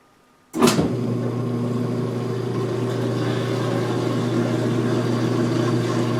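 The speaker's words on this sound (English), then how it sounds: "now we're going to go to the to the second spin drain" A washing machine starts its second spin-drain cycle with a sudden thump, then settles into a steady, loud motor hum with a constant whirring drone and no talk.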